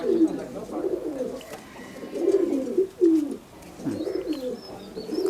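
A male Madrasi Kalanka tournament-flying pigeon coos loudly and close by, in repeated throaty rolling phrases with short pauses between them.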